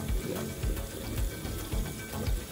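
Water flowing steadily from a freshly primed shallow well line, a continuous splashing gush with faint rhythmic pulsing, alone without talk.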